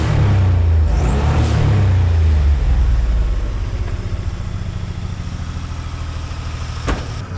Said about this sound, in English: Yeah, that sounds like a truck.